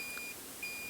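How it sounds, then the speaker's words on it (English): A thin, high electronic beep from the buzzer of a simple Lectrify Blinker Bird electronics kit sounds steadily, breaking off briefly before resuming, over a faint hiss. "send power through this buzzer or the LED"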